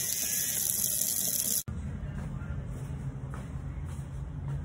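An electric toothbrush buzzes in a steady high whine while scrubbing a small turtle's shell, loud at first then abruptly cut, followed by quieter wet scrubbing and water sounds.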